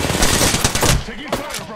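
Rapid automatic gunfire from a weapon in the video game Apex Legends, a dense burst of close, loud shots with no pauses.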